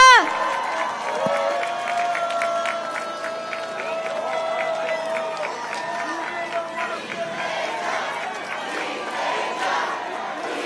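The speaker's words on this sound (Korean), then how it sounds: "뜨거운 함성과 박수 부탁드립니다" A crowd at a Seoul election rally in Yeongdeungpo cheers and claps, with loud shouting, whistles and applause sustained throughout, voices from a public address mixing in.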